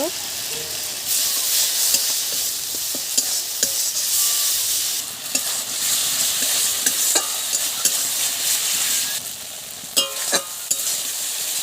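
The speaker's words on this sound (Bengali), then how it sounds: "মশলাটা আমি ভালো করে কষিয়ে নেব অল্প করে মশলার জল দেব হলুদ দিয়ে দেব" Spice paste for a sole fish curry being sautéed in a pan, giving a continuous close sizzle under repeated sharp scrapes and clinks of stirring.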